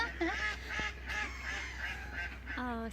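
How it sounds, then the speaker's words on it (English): Ducks by a river in Morpeth, Northumberland, give a few loud, nasal quacking calls near the start and end of the clip, over a constant low outdoor rumble with no talking. "as you see and you can hear, the ducks are actually laughing at us"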